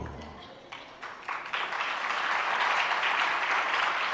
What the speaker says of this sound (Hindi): ताली बजाने से काम नहीं होगा,